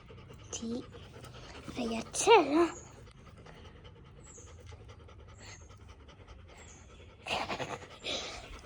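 A pet dog pants in quick rhythmic breaths, close and fairly faint, while a person talks over it in bursts.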